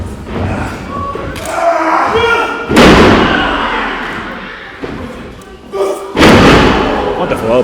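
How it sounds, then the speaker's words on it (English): An elbow drop at a professional wrestling show in Aylesbury lands with a heavy, booming thud on the ring canvas. Another loud slam follows a few seconds later, both near and forceful, over crowd noise and a commentator talking. "Wonderful elbow drop"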